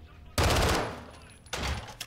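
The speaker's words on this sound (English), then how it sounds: "Can I shoot the lock open?" A single loud gunshot in the Call of Duty Modern Warfare 2 video game, fired at a door lock, followed by a second sharp blast about a second later with a decaying tail.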